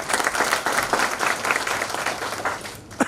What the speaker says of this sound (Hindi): 20 बार ताली तो सबको बजानी पड़ेगी